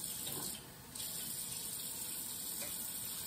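Water pours steadily from a tap or container while cooking chicken, a continuous close rushing gush with a brief dip in flow near the start.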